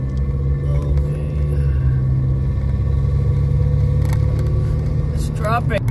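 Heavy traffic on the 60 freeway rumbles past from inside a car, a loud steady drone of engines and tyres, with a voice speaking over it.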